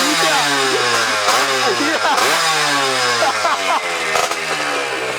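A Sonic two-stroke motorcycle with a Tena engine and smoky exhaust revs loudly and continuously up close, its pitch rising and falling through repeated throttle blips over about five seconds.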